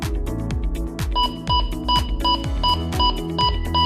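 A VIGOR gold and treasure detector sounds its alarm, a rapid run of repeated electronic beeps in a steady pulsing rhythm with sharp tones, loud and close, under background music with falling tones.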